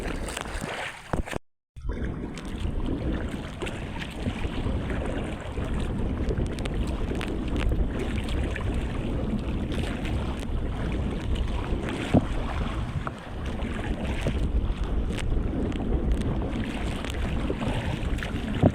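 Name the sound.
strong sea waves and wind around a fishing boat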